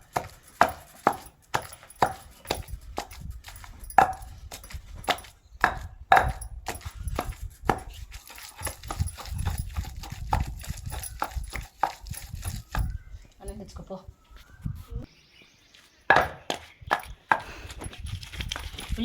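Onion pounded coarsely in a stone mortar for a chutney: a steady series of dull, close thuds with brief scraping between strikes, mostly alone, with a short pause near the end.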